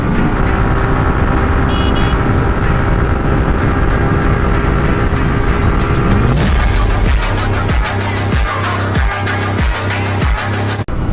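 A Suzuki Gixxer Monotone motorcycle pulls hard in fourth gear, its engine droning loud and steady under heavy wind roar, the tone shifting partway through as speed builds.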